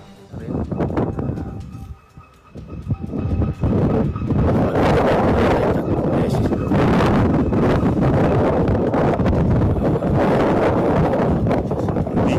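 Strong gusts buffet an outdoor microphone, a loud rumbling roar that briefly eases then returns and persists, with a voice occasionally audible beneath.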